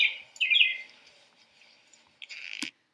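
An American robin sings in the background of an outdoor trail, with a few short bursts of bright chirping phrases separated by quieter gaps, moderately distant and without talk.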